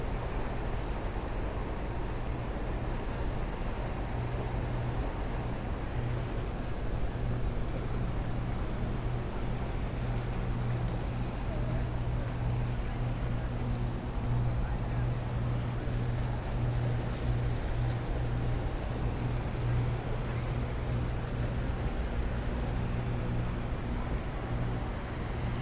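Steady low engine drone of boats moving along the river at the Fort Lauderdale Riverwalk, a continuous rumble with faint wind and lapping water, no voices.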